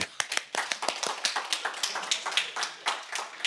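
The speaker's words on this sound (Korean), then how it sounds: "우리 큰 박수" A church congregation claps during a sermon, a brisk run of sharp, uneven hand claps from many people close by, steady for the whole stretch with no talking over it.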